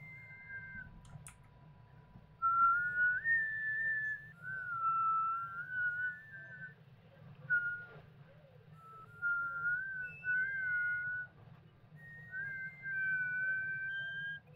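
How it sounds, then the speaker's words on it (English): A character whistles a wandering melody in the game Omori, clear and steady over a low background hum, in several sustained phrases with short pauses between them. "Who's whistling?"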